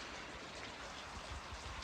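Steady rain falling on surfaces during a southern storm on a motorcycle road trip, a dense continuous hiss with no voices.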